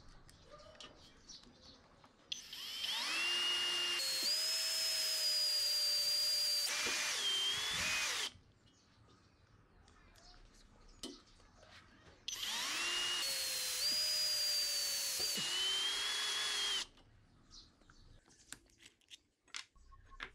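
SKIL 20V cordless impact drill, model HD52944SE20, driving screws into steel: two loud sustained high-revving bursts of several seconds each, separated by quiet pauses, with the motor whine stepping down near the end of each run.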